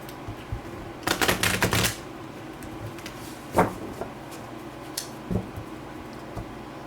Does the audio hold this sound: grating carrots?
no